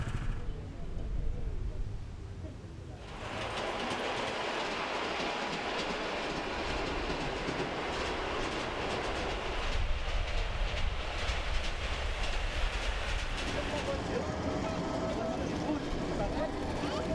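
A miniature ride-on train on 5-inch or 7¼-inch gauge track at Portes-lès-Valence gives a continuous rumbling clatter for the whole stretch, rising slightly partway through, while a narrator speaks over it.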